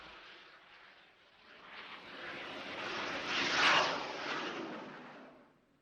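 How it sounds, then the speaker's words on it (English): An aircraft is launched from a carrier by steam catapult: a broad roaring engine rush swells steadily over several seconds, peaking near the end before fading, with no talk over it. "The steam catapult is a great advance on earlier catapults, and the ride that you get is very smooth."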